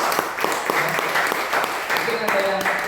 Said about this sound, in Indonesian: boleh tepuk tangan untuk Anda semua.